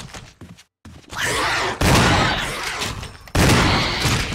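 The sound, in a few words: gunfire in the video game Resident Evil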